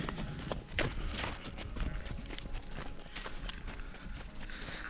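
An untamed mule's hooves clop steadily as it walks into a farm corral, the close, uneven footfalls running throughout over a dense, noisy outdoor background.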